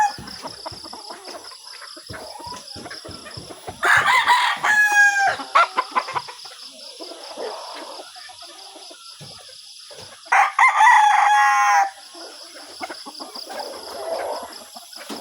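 Two loud crows from a large rooster a few seconds apart in a backyard chicken coop, with softer hen clucking and other birds chattering throughout.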